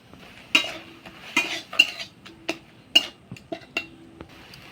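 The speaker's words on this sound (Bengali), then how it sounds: "মশলাটাকে ভালো করে মিশিয়ে নেব এই টমেটোর সাথে।" A utensil scrapes and clinks against a pot while ground spice paste is stirred into melted tomato for an oil-free vegetarian dal, in irregular close taps and scrapes with no talking.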